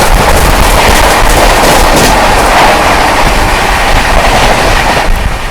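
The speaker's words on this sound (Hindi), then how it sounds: "चलिए दोस्तों सामने से आ रही है आप लोगों की मालवा सुपरफास्ट एक्सप्रेस।" Malwa Superfast Express rushing past a railway crossing, a loud, continuous roar of wheels and carriages with sharp rattling clatter, sustained close by throughout with no speech.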